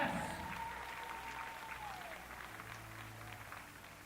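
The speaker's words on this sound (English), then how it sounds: "this is the part where you put your hands together and clap" An audience applauds at an international competition finals, a faint, distant wash of steady clapping that tapers slightly, with a faint voice and a thin tone over it.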